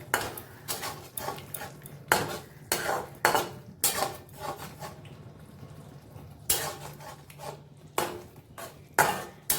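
A pan of fish coated in coriander paste is stirred with a utensil, producing irregular bursts of clattering scrapes against the metal between quieter pauses, close by and with no talk.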